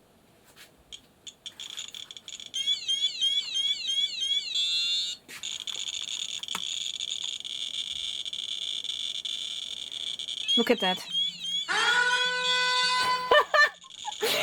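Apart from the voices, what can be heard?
radiation detector app making an alarm sound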